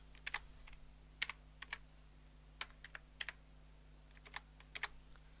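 Scattered keystrokes tap on a computer keyboard, sharp and close, coming in small irregular groups over a low background hum.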